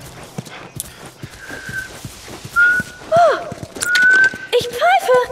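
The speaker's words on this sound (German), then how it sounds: "Ich pfeife!" Whistling in The Last of Us: bright, pitched whistle notes rise and fall in short bursts over game ambience, with talk and clattering hoofbeat-like sounds mixed in.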